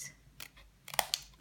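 Scissors snipping through card while making a handmade thank-you card, a few quick close cuts with two sharper snips near the end, fairly faint and without talk.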